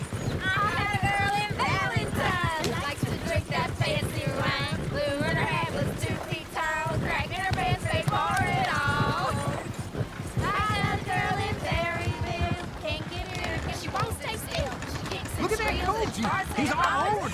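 Horses whinny repeatedly in Red Dead Redemption 2 over a busy backdrop of clopping hooves, with speech and other game sounds mixed in.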